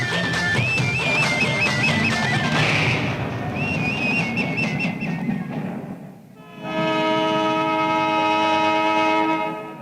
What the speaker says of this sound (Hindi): अरे ट्रेन छूट रही है